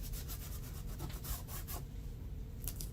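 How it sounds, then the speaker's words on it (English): Tape being rubbed down firmly onto a silicone mold produces quiet, repeated scrubbing strokes in a rapid rhythm, pausing briefly before a couple of final rubs. "Just put like a piece of tape over it,"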